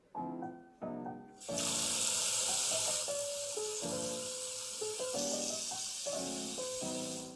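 A bell pepper is washed under a running kitchen tap for gazpacho. After a brief opening of melodic background music, a loud, close, steady rush of water starts and continues to the end, with the music still playing beneath it.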